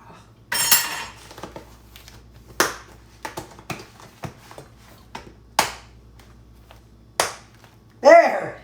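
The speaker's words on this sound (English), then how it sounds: "sometimes putting the lid on can be a little bit of a challenge" Lid being pressed onto a food container packed with salad and steak, a series of sharp plastic clicks and knocks spread out irregularly, close up, with quiet gaps between them.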